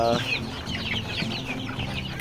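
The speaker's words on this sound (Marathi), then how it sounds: "ह्या दिसत आहेत त्या मोठ्या कोंबड्या आहेत सर्व आपल्या" Several country-breed hens cluck and murmur nearby, with high chirping from chicks mixed in, a busy continuous flock sound.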